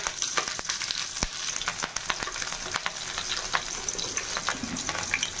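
Cumin seeds and green chillies crackle in hot oil, a loud busy frying sizzle dotted with sharp pops and spatula knocks throughout.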